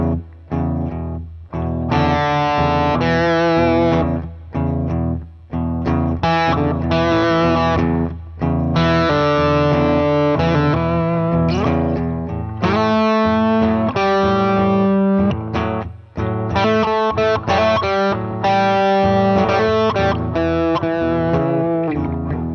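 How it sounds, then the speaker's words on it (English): Electric guitar run through effects with distortion and chorus plays two-note chord tones in one hand position, a sustained, loud sequence of ringing dyads with brief gaps between phrases and no talking. "But watch, just 2 notes now for those chord tones."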